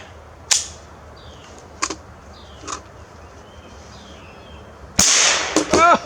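A pistol firing Federal Punch .22 LR rounds outdoors, several sharp cracks spaced a second or so apart, followed by a louder close burst of noise at the end.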